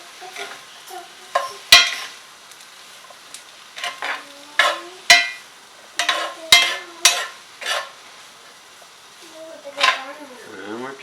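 Shrimp and summer vegetables for pasta sizzle in a pan while a utensil scrapes and knocks through the mix in irregular bursts, close by, with a brief voice near the end.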